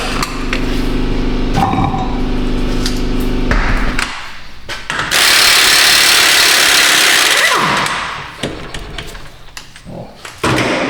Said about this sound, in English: Step one, remove the wheel.